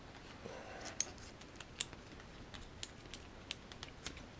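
Scissors snip through a rubber inner tube, a series of sharp, faint clicks and cuts spaced irregularly across a quiet workshop background.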